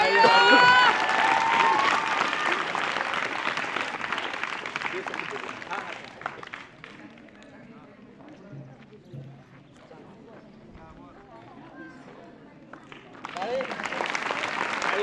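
An audience gives a round of applause, loud and dense at first, then fading to scattered claps and murmur before swelling again at the end, with a voice speaking over it.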